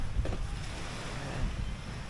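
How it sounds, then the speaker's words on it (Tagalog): Sea waves off Dinagat Island, a continuous wash of surf blended with strong wind buffeting the microphone, steady and close throughout the short stretch. "Ayun ang dagat."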